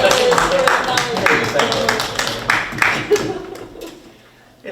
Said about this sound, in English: It's been seconded by applause